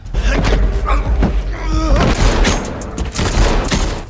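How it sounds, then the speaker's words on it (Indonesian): Heavy gunfire from a gunfight in an action film, with dense overlapping bursts of shots, thuds and booms packed loud and continuous over the whole stretch. "Di tengah aksi baku tembak itu, Brian mulai terpojok dan akan ditembak mati"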